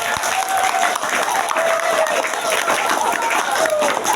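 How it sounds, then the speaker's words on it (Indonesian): A large crowd at a school Isra Mi'raj religious gathering claps loudly and continuously, a dense, even wash of applause with faint crowd voices mixed in. "Tepuk tangan untuk kita semua."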